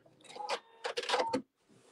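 A Husqvarna Viking sewing machine trims its thread after a quarter-inch quilting seam, giving a few short, close mechanical whirring and clicking bursts, the last and loudest lasting about half a second, then falling to near silence.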